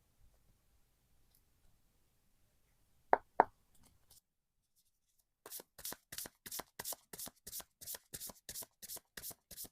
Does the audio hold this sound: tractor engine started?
no